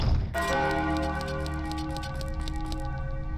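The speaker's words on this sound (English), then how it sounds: "These bells especially hit the hardest when they start" Bells in The Legend of Zelda: Majora's Mask ring out after a short opening, a loud sustained chime with a long ringing decay and a faint repeating tick over it.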